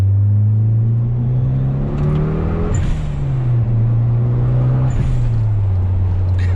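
A Mitsubishi Eclipse GS-T sports car drives along with a steady, loud engine drone and low rumble from inside or close by, its pitch rising and falling gently with the throttle.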